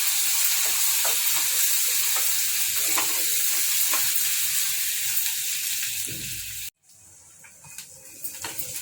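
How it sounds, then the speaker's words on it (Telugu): Ginger garlic paste fries in oil with a loud, dense sizzle and hiss that runs steadily, then drops briefly to silence and resumes more quietly with scattered crackles. "కొంచెం అల్లం వెల్లుల్లి పేస్ట్ వేసుకోవాలి, కొంచెం పచ్చివాసన పోవాలి నూనెలో."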